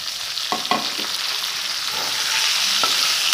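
Tomatoes frying in oil in a kadai for a spicy country-chicken curry, a loud, constant hiss with a few spoon scrapes and stirs near the start.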